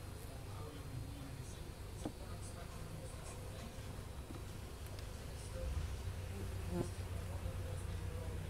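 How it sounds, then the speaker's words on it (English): Honey bees hum softly and steadily during an early September beehive inspection, a faint, continuous buzzing with occasional light knocks. "These bees are very calm and they're not like defensive that much."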